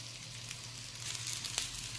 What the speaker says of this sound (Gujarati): એના પર બ્રાઉન કલરનું કોટિંગ ના થાય ને ત્યાં સુધી આપણે એને શેકાવા દેવાનું.